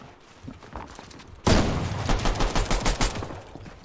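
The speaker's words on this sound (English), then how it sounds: "the pistol bullets" Pistol gunfire in a squads ranked battle royale video game: a sudden loud burst of rapid repeated shots starting partway through, close and dense, after a quieter stretch.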